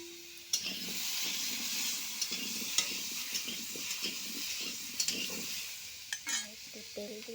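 Chicken and onion frying in a hot wok are stirred with a utensil, giving a steady sizzle broken by repeated scraping clinks against the pan, with a brief voice toward the end.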